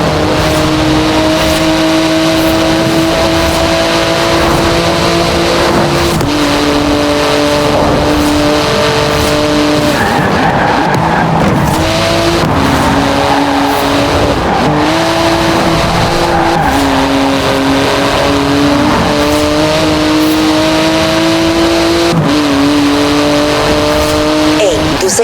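Car engine racing hard in Forza Horizon 4, a loud, continuous roar that rises and drops through gear changes, with tyre squeal and a voice talking over it throughout.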